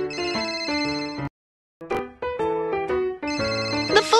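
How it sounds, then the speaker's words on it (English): A cartoon telephone rings in a bright, tonal electronic melody, repeating in two bursts separated by a short silence, loud and alone without talk. "The phone's ringing. Let's see who's calling."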